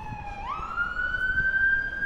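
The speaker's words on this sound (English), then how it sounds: "Ambulance." An ambulance siren in a Wakefield, Yorkshire street, a single rising wail that climbs and then holds a high tone, moderately loud over faint traffic noise.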